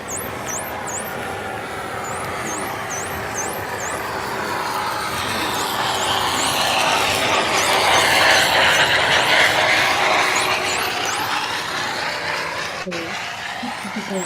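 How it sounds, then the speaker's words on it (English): Underwater, a boat passes by as picked up by a tag worn on a dolphin's back, a broad engine hum swelling and fading while repeated high dolphin whistles and chirps ring out above it. "an example of a dolphin listening and a boat passing by"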